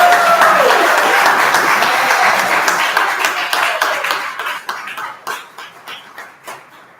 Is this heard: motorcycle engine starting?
no